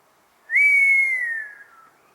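A person whistles one long, clear, steady note that glides slightly downward and fades out over about a second and a half, loud and close, with no talk.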